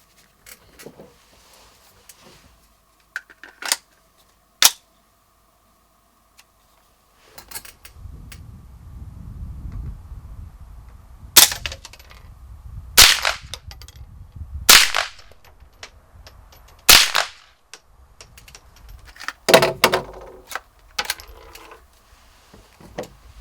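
Rifle shots from a red dot training rifle fired at a target, about eight sharp, loud cracks spaced irregularly over quiet stretches, with a low rumbling background in the middle portion.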